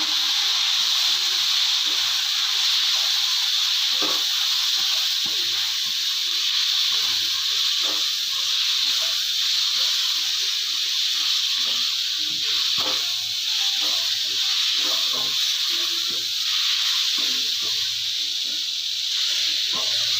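Pasta ingredients frying in a pan with soy sauce, a continuous loud steamy hiss and sizzle with scattered small pops and crackles, close and steady throughout.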